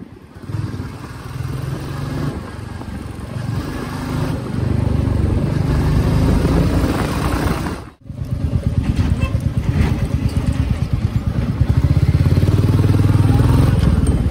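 A Royal Enfield motorcycle engine idles and revs close by as it turns around, cutting out briefly before picking up again with a rough, throbbing rumble that grows louder.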